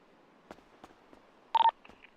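Phone dialing in a farming video game: a few soft single tones, then a quick loud burst of touch-tone beeps followed by two fainter tones, with no talk over them.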